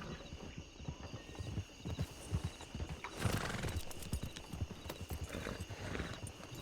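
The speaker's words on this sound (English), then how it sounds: "tell the stable master to bring my horse around" Horse hooves clip-clop steadily in Red Dead Redemption 2, a rapid, uneven clatter of hoofbeats with a brief whinny and faint ambient game background.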